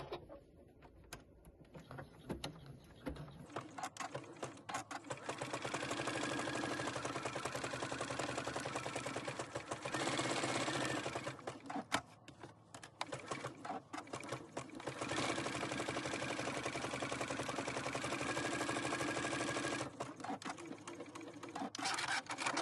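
A sewing machine runs a zigzag stitch along a fabric edge, a fast rattling drone that starts after a few seconds and carries on with brief pauses, close and loud, with no talk.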